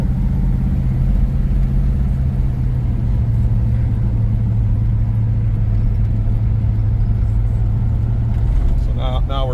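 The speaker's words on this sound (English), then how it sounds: "So now we're starting to get some heat in the engine." A Plymouth Belvedere's engine runs while the car drives along on a mild day, giving a steady low rumble and drone heard from inside the car with no talking.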